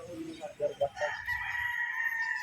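A Pure Boston gamefowl stag rooster crows nearby, a short, rough cock-a-doodle-doo rising after a few clucks, fairly loud against a quiet farm background.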